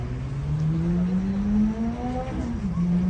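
An MK Rolls-Royce, red and beige, accelerates from slow as a low engine tone steadily rises in pitch, then dips and climbs again, fairly loud and close, on a street near Paris.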